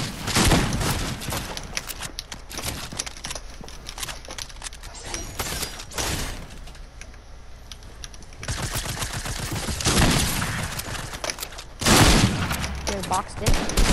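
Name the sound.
gunfire in the video game Fortnite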